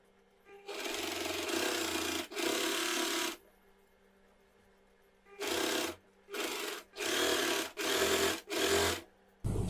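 A sewing machine stitches the folded edge of a women's cigarette pant in loud, close bursts of rapid whirring. One long run is followed by several shorter ones with brief pauses.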